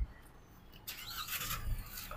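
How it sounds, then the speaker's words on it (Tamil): A Mahindra XUV 3XO started with its push-start button: a brief quiet pause, then the engine catches and settles into a low, close idle hum. "இன்ஜின் ஸ்டார்ட் பண்ணுறதுக்கு பார்த்தீங்கன்னா உங்களுக்கு வந்து புஷ் ஸ்டார்ட் பட்டன் கொடுத்துருக்காங்க"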